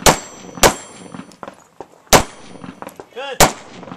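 Pistol shots on a shooting course ring out as sharp cracks, several spaced over a few seconds, some followed by metallic clangs from steel targets, loud and close.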